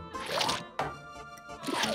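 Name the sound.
swamp muck poured into a beaker, cartoon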